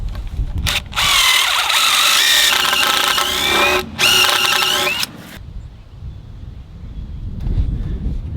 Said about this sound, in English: I need to drill a hole in this end.